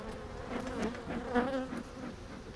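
Honey bees buzzing during a hive inspection, a close, dense swarm hum with overlapping wing tones rising and falling, wavering continuously with no talk.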